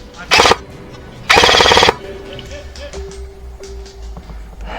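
An airsoft gun fires at an outdoor airsoft field in two loud, close bursts of rapid shots, a short one then a longer one. A faint steady tone and scattered distant pops follow.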